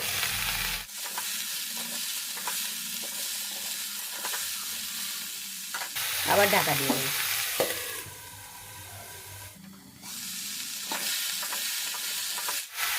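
Winter vegetables and potatoes fry in a covered pan over a low gas flame, a steady close sizzle that muffles and opens as the lid is moved, with a brief spoken line.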